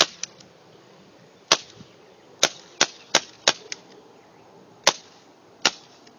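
An airsoft revolver is test fired, with sharp, loud, close snapping shots spaced irregularly across several seconds over a quiet background.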